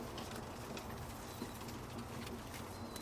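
Birmingham Roller pigeons coo softly in a steady low murmur, faint and continuous with a few light rustles, no voices.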